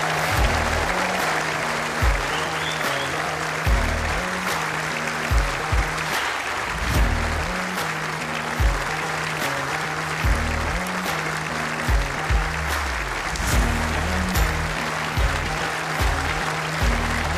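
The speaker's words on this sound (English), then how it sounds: "Continue that applause, ladies and gents, for your runner-up this year, Alex Marshall, MBE." Sustained audience applause fills an indoor bowls arena after a world singles championship final, a steady dense roar of clapping that stays loud and even throughout, with a low hum underneath.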